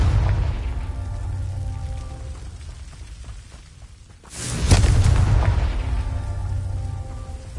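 A Confringo blasting spell in Hogwarts Legacy lands as a sudden loud explosive boom midway, with the rumble lingering, set within a busy game soundscape.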